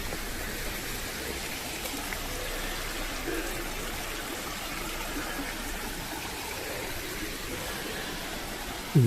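The River Porter flows beneath a bridge as a steady, even rush of water heard alone at moderate volume.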